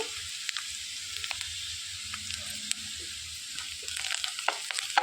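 Ginger garlic paste fries in a pan with a steady, soft sizzle and light hiss, quiet and even, broken by a few small crackles and stirring scrapes near the end. No one speaks.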